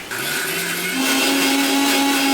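Blender whirring as it purees freshly picked mint leaves into juice, loud and steady, its motor pitch stepping up partway through with no talking.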